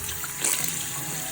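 Soapy water squeezed out of a makeup brush, a brief wet squelch and trickle with a short louder spurt partway through, close and fairly soft.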